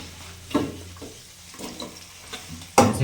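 Onions and green chilies with ginger and garlic frying in a pan, a soft sizzle broken by several stirring scrapes, the last one loudest.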